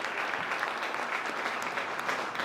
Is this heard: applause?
yes